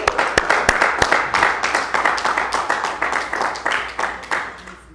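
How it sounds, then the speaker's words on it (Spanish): Congregational applause during a church evening seminary service, a dense, sustained wash of many hands clapping in a hall, steady for several seconds and gradually thinning toward the end. "Démosle un aplauso al Señor."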